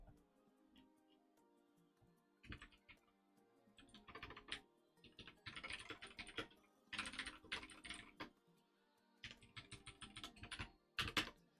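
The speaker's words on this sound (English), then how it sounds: "You should focus on typing intently and correctly." Clattering keystrokes on a computer keyboard come in irregular bursts and fast runs with short pauses, fairly close, with no talk over them.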